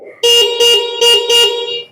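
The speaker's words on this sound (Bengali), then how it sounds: "হর্নটা দেখছেন কি দারুণ সাউন্ড" A loud electronic horn on an electric bike honks four times in quick succession, each blast a bright, steady tone at close range.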